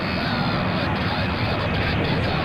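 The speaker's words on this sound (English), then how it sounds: "Our Globemasters open the back door. They're going to turn the airplane around" A C-17 Globemaster III transport turning on the ground at an air show, its engines producing a broad, steady roar that stays constant throughout, with no clear talk over it.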